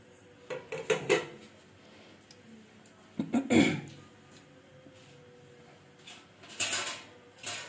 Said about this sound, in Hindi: अब हम इसके ऊपर एक जाली लगा देते हैं, फिट कर देते हैं।